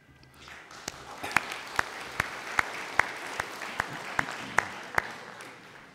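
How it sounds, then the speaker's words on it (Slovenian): An audience at a memorial gathering applauds for about six seconds. Sharp, evenly spaced claps ring out above a dense bed of clapping from the crowd, all at a steady level from start to finish. "Temu ni kaj ploskati, ampak ste pač tako vajeni"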